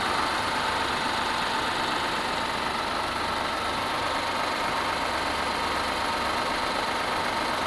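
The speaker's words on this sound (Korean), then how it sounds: "엔진 소리 일정하네요." A Kia K9 3.8 GDI AWD engine idles steadily and evenly, a constant low hum with no variation in pace, heard up close in the engine bay without any voices.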